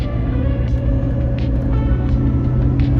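Car engine held steadily near 2,900 RPM while the transmission fails to shift into a higher gear, a loud, continuous low drone with faint tonal harmonics and no speech.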